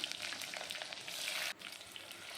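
Small onions fry in hot oil with a soft, continuous sizzle and crackle that quiets suddenly partway through.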